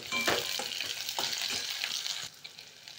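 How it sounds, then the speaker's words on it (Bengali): Capsicum hits onions already fried in a pan, giving a steady, close sizzle broken by soft stirring scrapes. "এতে আমি ক্যাপসিকামগুলো এখন দিয়ে দিচ্ছি।"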